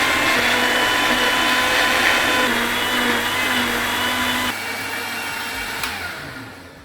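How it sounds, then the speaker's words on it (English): An electric blender whirs through a banana, apple and cinnamon smoothie, a loud continuous motor drone that shifts pitch partway through and then eases down toward the end. "Now let's get blending."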